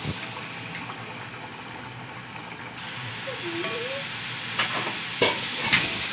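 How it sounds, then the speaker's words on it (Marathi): French fries deep fry in hot oil for about five minutes until brown, a steady soft sizzling hiss with a few louder crackles and utensil clicks toward the end. "पाच मिनिटं मस्त छान त्याला डीप फ्राय होऊ द्यायचं"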